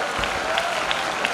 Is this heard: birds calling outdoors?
no